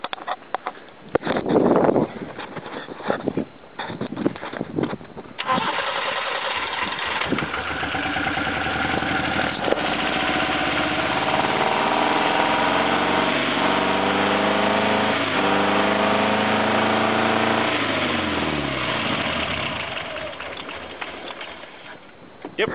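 A Subaru 1800 engine with a spark plug lead pulled idles roughly on too few cylinders, a steady loud run that lasts about twenty seconds, sags toward the end as it nears stalling, and follows a short stretch of talk and handling noise.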